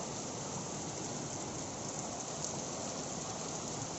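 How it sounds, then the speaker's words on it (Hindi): Steady rain pours down in Mohali in a dense, even hiss, with no talking and no thunder. "अभी बारिश शुरू हुई है"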